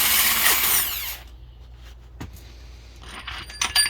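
A power tool, likely a drill or impact driver, whines loudly for about a second while taking out the last bolt on an 05 Acura TL transmission during teardown, followed by quieter metallic clinks and scrapes of tools nearby.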